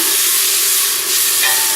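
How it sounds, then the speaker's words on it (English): Steady, loud sizzling of onions sautéing in hot oil for feijoada, a continuous bright hiss with a brief stir partway through. "That's the noise we're looking for, the sizzling."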